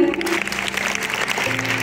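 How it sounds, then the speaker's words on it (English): Applause from a school quiz audience, a steady wash of clapping lasting under two seconds, fairly loud and close, with faint voices underneath. "Clap for them."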